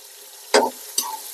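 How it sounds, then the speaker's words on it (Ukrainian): Two bursts of sizzling as onion is stirred in hot oil for plov, cooked outdoors, the first louder and longer, the second shorter, with quiet in between. "Так, смажимо цибулю."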